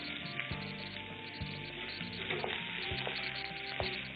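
Onions sautéing in a pan for wheat bread upma, a continuous moderate sizzle with a few sharp clicks and scrapes of a utensil against the pan, no voices.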